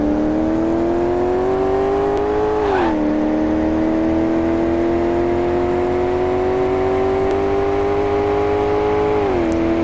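A car engine in the racing game Car Mechanic Simulator 2018 accelerates steadily with a loud, sustained whine that rises in pitch, drops briefly at each gear shift around the third and tenth seconds, then climbs again. No one talks.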